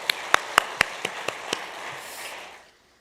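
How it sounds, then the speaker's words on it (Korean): A church congregation at a Wednesday worship service applauds, with a few sharp claps standing out over a wash of clapping that dies away into quiet within a few seconds. "하나님께 영광의 박수를 한 번 더 올릴까요?"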